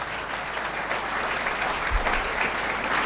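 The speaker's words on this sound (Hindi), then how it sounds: "ताली बजाते रहिए आप लोग।" Sustained, loud applause from a seminar crowd in Begusarai, Bihar, with many hands clapping evenly in a thick, unbroken wash and no voices on top.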